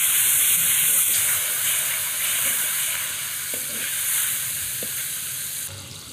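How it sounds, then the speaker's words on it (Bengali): Chopped onion, tomato, salt and nigella seeds frying in a pan, a steady loud sizzling hiss throughout with a couple of faint knocks of stirring, close by. "নেড়ে চেড়ে ভাজা ভাজা করে নিই।"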